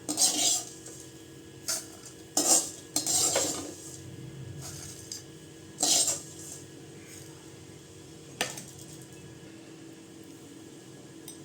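Bread pieces are fried and turned in a pan, with a spatula clanking and scraping against the metal in short, separate bursts between quiet stretches of faint background hiss.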